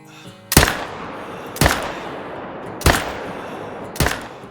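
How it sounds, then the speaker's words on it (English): Four rifle shots are fired at bucks in the hunting game Call of the Wild, each a sharp crack with a short echoing tail, spaced roughly a second apart. "But first I'ma shoot those 3 bucks over there."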